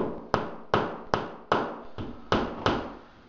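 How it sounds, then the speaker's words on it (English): Seven sharp hammer taps driving a wall anchor into a drilled hole, evenly spaced about every half second, each a crisp close knock with a short decay, no talking. "you just gently drive the anchor in until it bottoms out like that"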